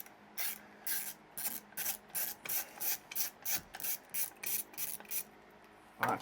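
A ratchet loosens a bolt on a cylinder lawnmower cartridge, giving about fifteen rapid, evenly spaced rasping clicks in steady strokes, close and fairly loud, with no talking.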